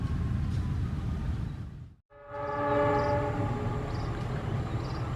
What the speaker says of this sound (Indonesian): Kereta api Argo Wilis persiapan masuk merapat di jalur 1 stasiun Cipendei.